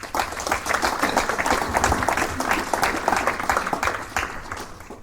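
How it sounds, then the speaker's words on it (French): Audience at a political meeting in Belfort applauding, a dense crowd of clapping hands that stays steady and lively throughout. "Je vous demande de l'applaudir"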